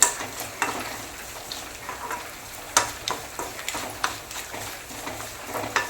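Spice powders, including asafoetida, fry in oil for a tempering: a close, moderate sizzle punctuated by repeated sharp ticks and scrapes of a spoon stirring against the pan.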